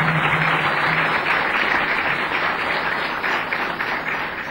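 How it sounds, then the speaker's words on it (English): A hall audience at an Indian business-sector gathering applauds the Nepalese Prime Minister and Deputy Prime Minister with loud, continuous clapping that holds steady from start to finish. "give a round of applause to the Prime Minister and the Deputy Prime Minister."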